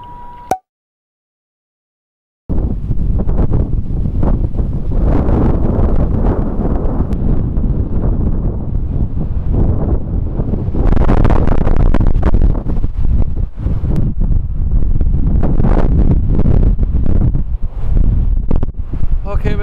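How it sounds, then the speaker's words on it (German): Strong winter wind batters a camper van parked in the Netherlands, with loud, rough gusts buffeting the microphone almost continuously after a brief silent gap near the start. "Es ist echt zu windig."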